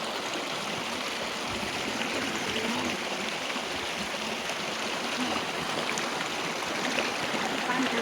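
Clear water flows along a stream in a rocky outdoor spot, a steady, close, full rushing and babbling that holds even for the whole stretch with no voices over it.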